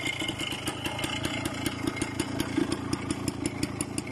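A Suzuki TS125 ER trail motorcycle engine runs steadily nearby, holding a rapid, even, clattering idle-like pulse throughout with no speech.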